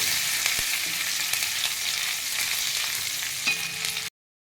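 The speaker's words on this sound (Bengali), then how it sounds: "এটাকে একটু ভাজা একটুখানি জাস্ট ভেজে নেব" Grated ginger and crushed green chilli frying in a pan, a dense, even sizzle close up with occasional faint stirring taps, cutting off abruptly near the end.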